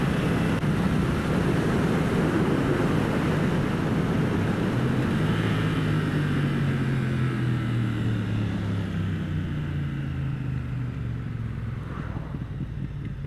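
A Triumph Speed Twin motorcycle engine burbles steadily with a deep, throaty exhaust note, rising and falling in pitch as it runs, close and loud with no talking.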